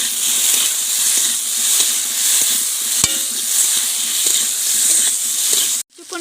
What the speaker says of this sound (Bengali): নুন দিয়ে দিচ্ছি, হলুদ গুঁড়ো দিয়ে দিচ্ছি। দিয়ে এবার কিছুক্ষণ ভালো করে আমি কষিয়ে নেব।